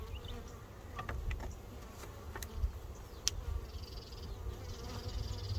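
Honey bees buzz around an open, queenless hive, a steady close drone of many wings with individual bees zipping past the microphone, fairly faint and continuous.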